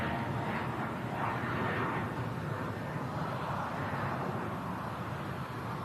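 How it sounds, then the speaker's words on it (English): A Jet2 Airbus A330 airliner taxis out at an airport, its engines giving a steady, distant broadband rumble and whine that holds level throughout with no talk over it. "here's the Jet2 A330 on the taxi out on MATCAM as well"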